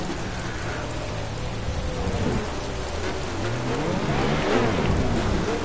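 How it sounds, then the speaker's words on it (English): Steady heavy rain in the racing game Project Cars hisses throughout, with rumbling thunder and engine drone underneath, growing slightly louder toward the end. "Also, it's raining, and so you're supposed to."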